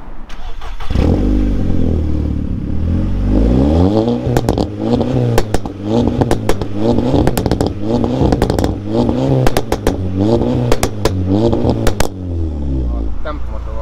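A 2011 Seat Leon Cupra R with a 2.0 TFSI engine revs up repeatedly, each throttle blip followed by sharp crackling pops and bangs from the exhaust, loud and close.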